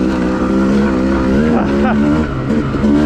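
A Yamaha YZ250 two-stroke dirt bike ridden along a whooped-out OHV trail, its engine a loud, continuous, close buzzing drone that rises and falls slightly in pitch, with a rider's voice talking over it.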